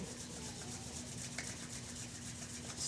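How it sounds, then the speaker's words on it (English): Palms rubbing together vigorously during a chair and mat yoga session, a steady close-up swishing friction that runs continuously for about three seconds with no talk. "let's bring our hands together, rubbing them rather vigorously"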